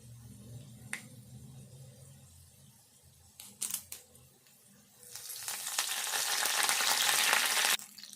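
Curry leaves dropped into hot tempering oil with garlic and dried red chilli for Telangana dal, a few sharp crackles followed by a loud, steady sizzle that fills the second half.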